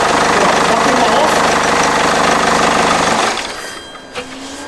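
Engine running smoothly after fuel injector work, a loud steady idle with an even rhythmic chug that suddenly drops away after about three seconds, leaving faint background noise and a brief knock.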